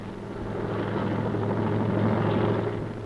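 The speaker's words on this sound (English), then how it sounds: "57 Mountain Division crossed the Meghna in helicopters" Military helicopters airlift troops across the Meghna river during the 1971 India–Pakistan war, their steady rotor thrum and engine drone sounding loud and continuous throughout, with no voices.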